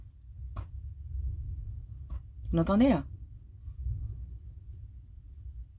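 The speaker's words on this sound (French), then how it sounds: "Le bruit que vous entendez, c'est le vent." Wind blows against the microphone outdoors as a steady low rumble that swells and fades. A speaker briefly talks over it.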